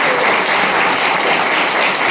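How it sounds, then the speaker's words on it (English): Audience clapping at a school farewell event, a thick continuous roar of many hands applauding, loud and even for the whole stretch with no talk rising above it. "So clap for him."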